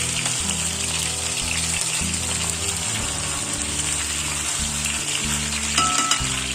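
Tandoori masala chicken frying in a pan, a loud continuous sizzle and hiss close by, with a low rhythmic humming drone pulsing beneath it and no voices.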